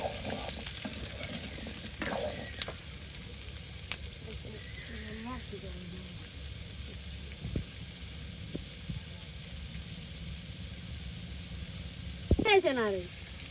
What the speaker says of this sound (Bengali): মাছের জন্য আলু কষে নিতেছি।